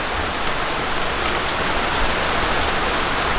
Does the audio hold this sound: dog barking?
no